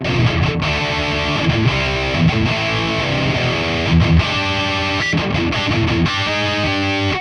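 Heavily distorted electric guitar through a Soldano-style amp preset on a Valeton GP-5/GP-50, gain about halfway, bridge pickup, playing chunky rhythm chords and riffs, loud and continuous with a biting, saturated tone, no talking.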